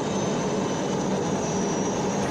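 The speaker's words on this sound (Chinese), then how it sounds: "学员驾驶战机采取超低空掠海飞行和低空穿越山谷等方式" A navy jet fighter flying at ultra-low altitude over the sea gives a loud, steady, broadband jet roar that fills the whole short stretch without letup.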